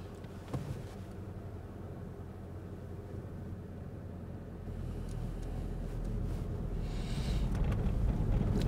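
Farm vehicle driving past a busy storage yard during maize harvest, a low engine rumble that swells steadily louder as it approaches, heard alone without speech.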